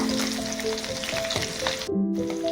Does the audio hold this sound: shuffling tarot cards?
no